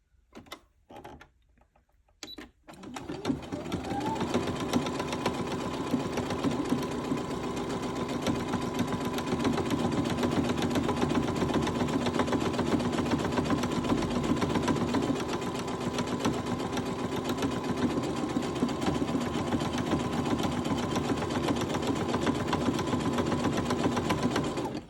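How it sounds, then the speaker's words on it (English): A Brother Innovis 15 sewing machine stitches a buttonhole, starting after a few seconds of quiet and then running as a steady, close, even mechanical whir with a rapid needle rhythm that holds without pause. "It's counting the stitches, and when it gets to the end it will just stop."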